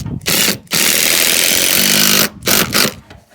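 A power driver sinks gold screws through timber into a soft brick wall in a house build. Loud, close whirring bursts come in one long run and then a couple of short pulses.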